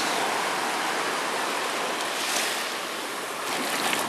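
Water surges against flood levee boxes as a continuous, loud, close rush of churning water that swells slightly partway through, with no talking.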